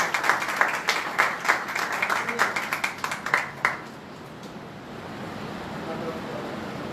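Church congregation clapping to welcome a newly married couple at a Pentecost Sunday meeting, a dense burst of applause that stops abruptly after a few seconds, leaving quiet room tone.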